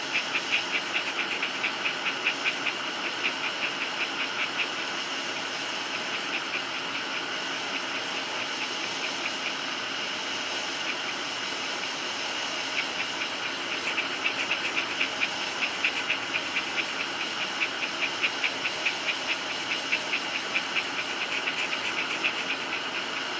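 A hot air station with no nozzle blows at 400 °C and 40% airflow, giving a constant close airy hiss that holds steady throughout, with no voices.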